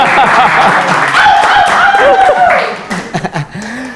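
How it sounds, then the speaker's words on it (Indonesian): A studio audience on a Ramadan talk program claps briefly, mixed with laughter and chuckling voices, and the noise tapers off after a few seconds. "Ini tepuk tangan nih guys."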